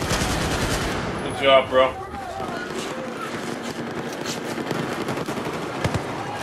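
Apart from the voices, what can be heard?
gunfire in the video game Battlefield 4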